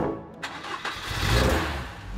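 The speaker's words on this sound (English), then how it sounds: "Nice engine, nice sound." A Ford Cortina engine cranks with a couple of quick starter bursts, then catches and swells into a rising, rumbling rev before settling. It is close and loud, with no voices.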